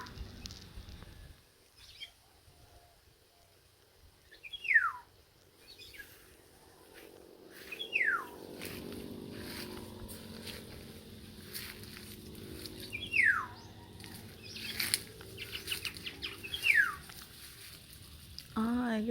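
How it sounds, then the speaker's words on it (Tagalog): Birds call from behind a tree, giving short, high descending chirps every few seconds over a faint outdoor background with soft rustling and patter. "some bird behind the tree."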